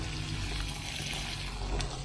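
Water trickles steadily out of a small drilled hole in a rusty 30-year-old steel water tank aboard a sailing yacht, a continuous close splashing drain with no pauses.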